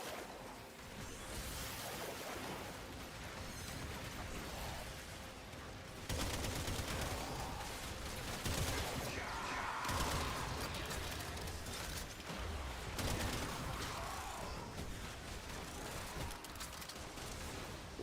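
Steady, dense gunfire from the video game Warframe, with a high fire rate, rattles continuously and loudly through the whole stretch amid mechanical game effects, with no one talking.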